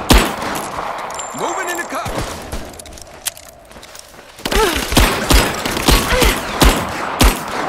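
Gunfire in the action game Rise of the Tomb Raider: scattered shots and bursts early, then a rapid string of sharp, loud reports in the second half, with a brief spoken line over the shooting.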